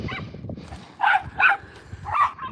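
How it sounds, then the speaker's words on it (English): A female border terrier barks loudly during a chase game with other dogs, three or four sharp, close barks in quick succession over a low rumble of movement. "She can only play when she's barking as loud as she can."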